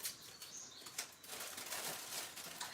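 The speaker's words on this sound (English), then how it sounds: "I put some birds on for you." Recorded countryside birdsong plays quietly in the background in a UK setting: soft wing flutters and scattered chirps and tweets over a steady, faint outdoor hiss, with no talking.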